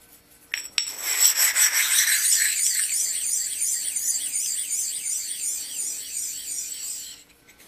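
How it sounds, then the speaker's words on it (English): Two flat bench sharpening stones rubbed face to face in a smooth, continuous grinding rasp, starting with a couple of sharp clicks and sustained for several seconds before stopping. "take note of the how smooth the sound of these stones when you grind them"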